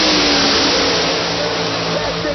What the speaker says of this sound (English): Tim Lynch ignites the Chevrolet.